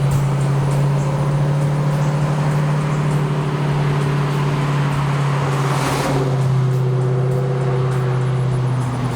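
A 1979 Pontiac Firebird Trans Am with a swapped LS3 V8 drives along, its engine droning loud and steady throughout with a deep, continuous rumble and a brief swell near the middle.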